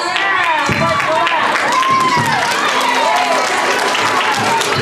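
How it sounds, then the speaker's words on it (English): Loud, dense applause from a school audience for young dancers, many hands clapping continuously up close, with excited voices and shouts rising over the clapping. "So we give a round of applause to these dancers up here and your teachers."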